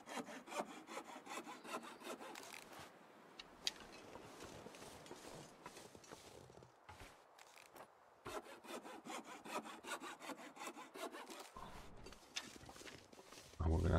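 A hacksaw cutting in The Long Dark makes repeated rasping back-and-forth strokes at a steady rhythm, fairly quiet, with brief pauses between strokes and a louder thump at the end.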